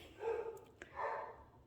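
Household dogs bark indoors in two short, moderately quiet bursts, with a brief pause between them.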